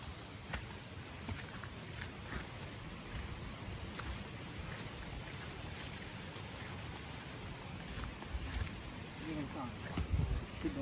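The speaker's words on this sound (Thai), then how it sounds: "ฝนตกนะ" Rain patters steadily on an outdoor graveyard, a soft, even hiss of drops that holds for about eleven seconds, with faint scattered sounds in the background.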